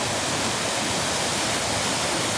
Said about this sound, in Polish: A tu macie wspomniany wcześniej wodospad. Mam nadzieję, że mnie dobrze słychać, bo woda tu szumi mocno.